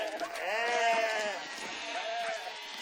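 Sheep bleat in a wavering, drawn-out series of close, fairly loud calls from a flock at a university setting in Sydney, with no talking over them.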